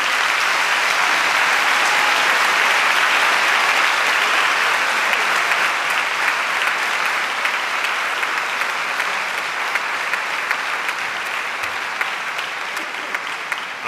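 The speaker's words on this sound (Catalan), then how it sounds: "Vaig a demanar un fort aplaudiment per als dos compositors" Sustained, loud applause from a concert audience for two composers at a band performance in Tavernes de la Valldigna, a dense wash of clapping that fades slightly toward the end, with no talk over it.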